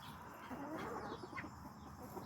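Chickens cluck softly in a coop, a few low, rolling murmurs over a constant background hum, faint and somewhat distant with no talking.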